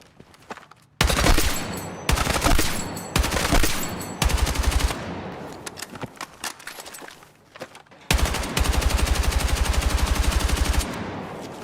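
A gun firing in Battlefield 6, heard as loud, close automatic bursts of rapid shots, several long strings separated by short pauses.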